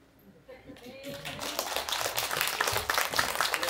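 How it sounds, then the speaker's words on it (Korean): Applause from a symposium audience swells after a quiet start, the clapping building quickly into a sustained, fairly loud wash of overlapping claps that continues to the end. "큰 박수 부탁드리겠습니다"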